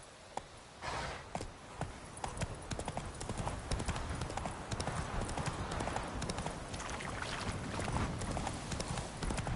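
Roach, the horse in the video game The Witcher, gallops with steady, rapid hoof clip-clop throughout, loud and close, with faint breathing and a possible brief whinny underneath.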